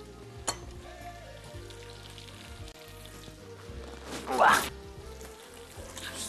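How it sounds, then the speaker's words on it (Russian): Onions frying in a pan are stirred, a low steady sizzle with scraping and a louder burst of spatter near the end. "Смешаем наш лук."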